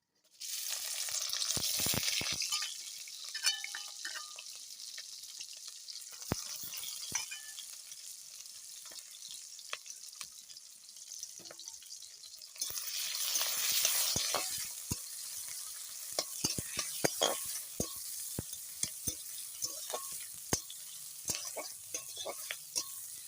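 Ginger, garlic, green chilli and onion hit hot oil with a loud burst of sizzling, then keep frying under repeated spatula scrapes and taps against the pan, with a second surge of sizzle midway.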